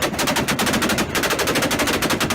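Rapid, loud popping crackles from a Toyota Supra exhaust in a continuous staccato burst, like gunfire, close and dense throughout.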